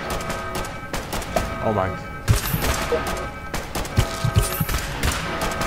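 Gunfire during a radscorpion fight in Fallout Shelter, a string of quick, punchy shots and thuds scattered through the scene, with a voice exclaiming briefly over the combat.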